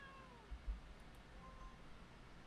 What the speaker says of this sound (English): My friend, the cat.